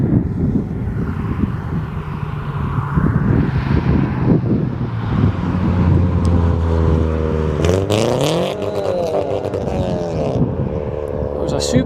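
A Subaru car roars past near Aberdeen Airport, loud and close, its engine note climbing and sweeping across a busy rumble of airport and road noise.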